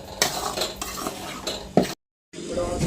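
Besan flour dry-roasts in a pan for besan ladoo as a spoon stirs it steadily, making close scraping and clinking against the metal with a faint sizzle and a brief pause.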